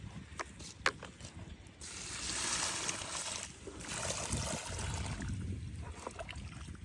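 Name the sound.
irrigation water flowing to lemon plants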